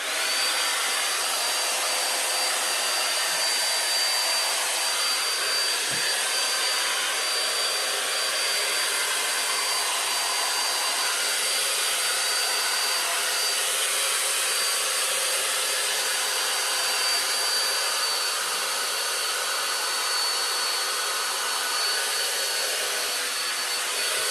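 A PureAirCurl hair styler blows at full strength, a steady loud broadband whoosh held without change throughout, close and unbroken.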